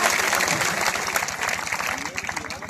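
Applause at an election rally speech in Kaimur, Bihar, a burst of crowd clapping with a voice speaking over it throughout.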